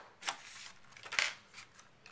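A handheld paper punch cutting shapes from paper in a craft project, giving a few faint, sharp clicks and snaps spaced irregularly, with no talk.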